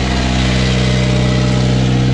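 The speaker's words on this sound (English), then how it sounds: "Now it is an old engine, it's a Perkins, so it's not as smooth as their new Nanny." An old Perkins inboard engine on a Norfolk Broads hire boat runs steadily, a loud, close, continuous low rumble with a rough, uneven throb and no voices over it.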